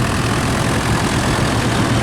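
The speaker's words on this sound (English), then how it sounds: "Diesel engine. Lovely little tractors these, very, very popular." A small diesel Ferguson tractor engine runs steadily close by at a rally, a loud, constant, even chug with no talk over it.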